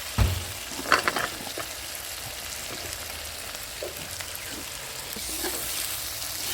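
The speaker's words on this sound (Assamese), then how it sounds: "আৰু এতিয়া ধুনীয়াকৈ আলুখিনি ফ্ৰাই কৰি লৈছোঁ" Potatoes fry in hot oil in a pan after the duck meat, a steady close sizzle broken by a few clinks and stirring scrapes near the start.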